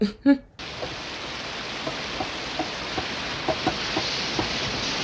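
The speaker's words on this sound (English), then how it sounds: "these movies love their rain scenes" After a brief voice, a steady hiss of rain from a scene in the 1986 film Psycho III sets in, with soft scattered drips and taps sounding through it.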